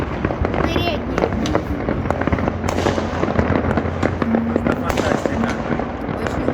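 New Year 2024 fireworks burst over Adler, heard from high above the city as a dense, continuous crackle of overlapping distant bangs and pops. Voices talk faintly beneath the barrage.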